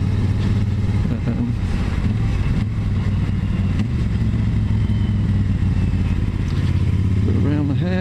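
A Triumph Bobber Black motorcycle engine drones steadily at about 2,300 rpm in sixth gear, a constant throaty hum with road noise, loud and close throughout.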